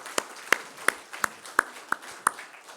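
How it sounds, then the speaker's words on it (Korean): Congregation at a Sunday service in a Korean church claps to welcome newly registered members, heard as a sparse, slow run of about seven separate sharp claps at moderate distance rather than full applause. "오늘 등록하신 교우들 크게 박수로 환영하겠습니다."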